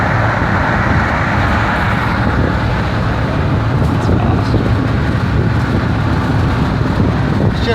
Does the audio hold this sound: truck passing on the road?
yes